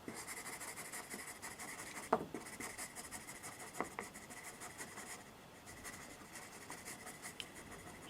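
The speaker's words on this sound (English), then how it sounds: "now I need to do some permanent marker layout." Permanent marker squeaking across metal to draw a layout, faint close strokes in short scratchy bursts with a couple of sharper taps and gaps between, no talking.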